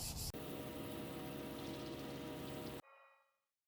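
A lightweight 3M Scotch-Brite pad scuffs primer on the corners of a guitar body during a rattle-can refinish, giving a close, steady rubbing hiss for about two and a half seconds before it stops abruptly and a faint tail fades out.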